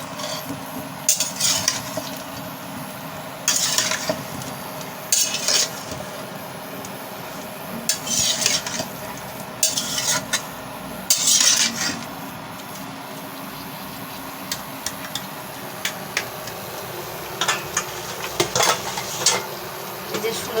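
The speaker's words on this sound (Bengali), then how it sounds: "ভালোভাবে নেড়ে ফেলে দিচ্ছি" Koi fish curry with cauliflower, potato and tomato being stirred in a pan, a spoon scraping and clinking against the metal in repeated bursts over a soft sizzle, close by and without talk.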